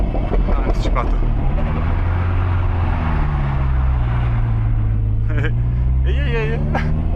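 A 470 hp Subaru Impreza STI engine with a big turbo roars close up, its note swelling and shifting through revs, while voices speak over the loud mechanical drone.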